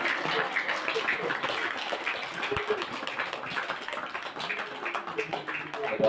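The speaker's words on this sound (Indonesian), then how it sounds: "Tepuk tangan ya Bapak Ibu." Audience applause at an Islamic religious lecture, a fairly faint, continuous patter of many hands clapping that stays even throughout and swells slightly at the very end.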